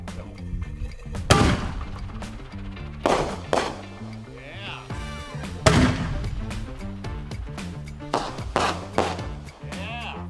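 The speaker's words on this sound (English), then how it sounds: "everyone loves fireworks and everyone loves a good mortar round" Backyard fireworks mortar rounds launching with sharp, booming thumps, several loud bursts spaced irregularly, some followed by brief crackle and whistle, with people's voices mixed in between the blasts.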